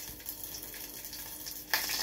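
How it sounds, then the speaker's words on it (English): Breakfast fries in a hot pan, giving a steady crackling sizzle that jumps suddenly louder near the end as the oil splashes up; no voices are heard. "I'm over here making breakfast. I'm frying."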